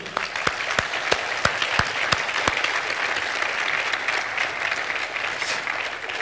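Applause for Stéphane at a talk on website security. A few distinct, sharp claps open it, then the clapping quickly fills into steady, dense applause from the audience.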